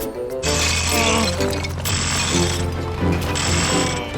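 Cartoon drilling of a bigger hole through lake ice, a loud grinding, ratcheting mechanical whir in two long bursts with a short gap and a third burst starting, up close with no talk.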